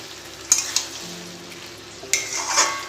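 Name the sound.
stirring chicken pieces into sauce in a pan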